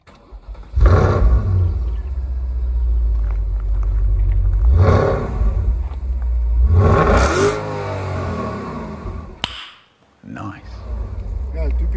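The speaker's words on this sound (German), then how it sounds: "Ja, typisch V8, oder?" A Porsche Panamera 4S with a naturally aspirated V8 revs hard several times, each loud deep roar rising and falling, followed by a short sharp blip and a lower rumble, with people talking over it.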